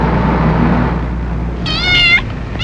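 A cat meows twice outside a door, the first a drawn-out wavering cry and the second brief and cut off, heard clearly over a steady low rumble with no talking.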